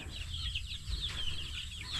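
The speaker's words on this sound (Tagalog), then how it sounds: "Nakakatuwang pagmasdan yung mga alaga nating sisiw." Small pet chicks in a backyard garden near rice hulls, with soft repeated chirping and clucking calls scattered across a steady low rumble of background noise, no talk.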